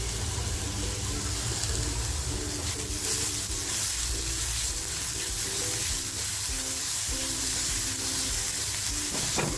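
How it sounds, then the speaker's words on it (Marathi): Onion frying in a pan for a prawn egg roll, browning toward the bottom, giving a steady close sizzle with a broad hiss throughout and faint scraping underneath, no voices. "आपला कांदा कसा लालसर झालेला आहे म्हणजे खाली लागत चाललेला आहे"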